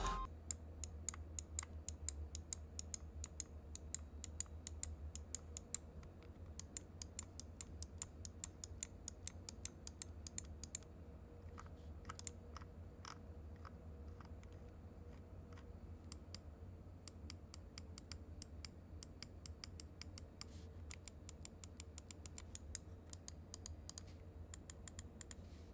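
Clicks from a Glorious Model D gaming mouse, sharp and close, come in rapid bursts of repeated taps with short pauses between runs over a steady low hum.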